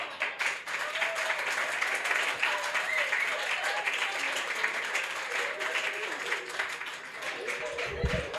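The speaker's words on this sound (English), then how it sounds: "Omar, just continue the round of applause" An audience applauds warmly after a poetry reading, steady clapping filling the room for several seconds with a few voices mixed in.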